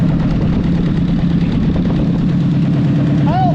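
A cheap old Ford tractor idles with an exhaust leak, a loud steady low chugging drone with a leaky puffing edge, close up, and a brief rising squeal near the end.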